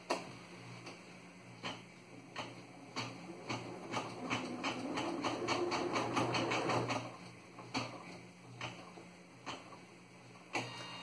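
An embroidery machine stitches the inner parts of a cable organizer with a rapid, rhythmic mechanical ticking and whirring that swells in the middle, then slows to spaced clicks, close and moderately loud.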